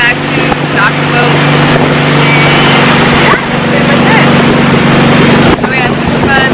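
Motorboat engine droning steadily as the boat heads back to the dock, loud and close with heavy wind buffeting the microphone and brief dips in level.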